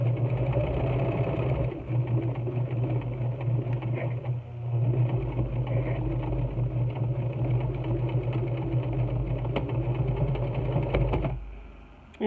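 A home sewing machine stitches down a pleat on a half apron, with a steady, close mechanical hum and rapid needle chatter running for about eleven seconds before stopping abruptly.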